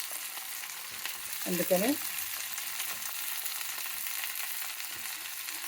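Chopped ivy gourd (tindora) frying in a pan for chutney gives a soft, steady sizzle under a brief word of Telugu speech, staying quiet and even across the whole stretch.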